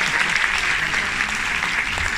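Dense, steady applause from a cruise ship audience during an evening cabaret show aboard MSC Lirica, greeting the ship's director; continuous clapping with no gaps across the whole short stretch.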